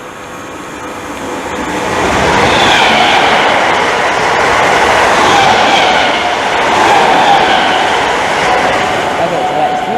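A British Rail Class 315 electric train with an unusual noise passes on the Great Eastern Main Line at Romford, making a loud, near rumble that swells and holds, with faint clatter over the roar.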